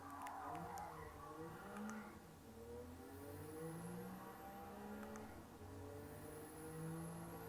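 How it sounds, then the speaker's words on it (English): Suzuki Carry KC mini truck with a turbo engine pulls and shifts while driving, its engine rising and falling through gears with a faint high turbo whistle above the drone. "Oh, you can hear that turbo."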